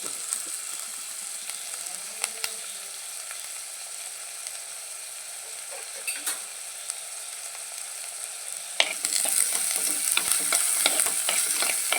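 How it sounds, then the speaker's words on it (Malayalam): Sardine curry with coconut oil stirred in a pan, a steady close sizzle with spoon scrapes and clicks, growing louder and brighter near the end as fresh oil hits the heat. "കുറച്ച് വെളിച്ചെണ്ണ കൂടി ഒഴിച്ചു ഇനി ഇളക്കി കൊടുക്കും"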